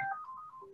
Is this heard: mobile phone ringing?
yes